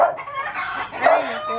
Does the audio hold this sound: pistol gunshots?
no